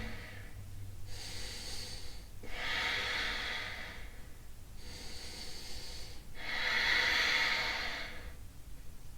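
Slow, deep audible breaths during a yoga twist pose, alternating long inhales and exhales in a steady rhythm of about four breaths, close and fairly quiet with no talking.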